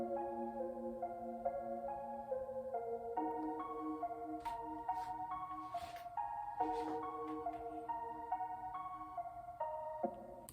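A bright synth bell plays a chord progression layered over MIDI, with steady sustained tones changing every second or so and a few brighter noisy accents partway through, alone without voices.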